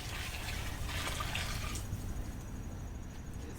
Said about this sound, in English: we're gonna sink the peas by adding some cold water right now